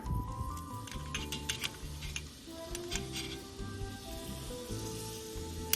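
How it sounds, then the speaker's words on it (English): Butter hits a hot pan for searing steak, giving a light, crackling sizzle with scattered ticks and pops, moderately loud and continuous over a low, steady background. "So I'm gonna dump my butter in there."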